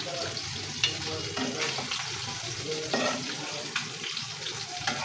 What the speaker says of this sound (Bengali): হালকা ভাজি করছি মাছগুলা